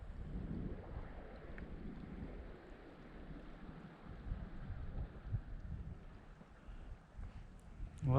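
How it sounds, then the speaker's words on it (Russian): Wind blowing upriver from downstream on the Irkut River during September fishing, a low, fairly faint rumbling gust with microphone buffeting, rising and falling unevenly and building to a stronger burst at the end. "Ветер задул снизу."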